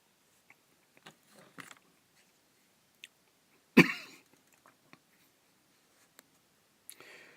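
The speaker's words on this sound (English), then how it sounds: "I had a cough." A single sharp cough bursts out in a quiet room, surrounded by small scattered clicks and soft handling noises.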